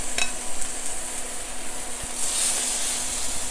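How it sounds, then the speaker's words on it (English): Pork chops sear in a hot pan with olive oil, a steady close hiss and crackle with a few sharp pops and a faint metallic tap, sizzling continuously without any talk. "Just make sure that the pan is nice and hot. That way we get a good sear."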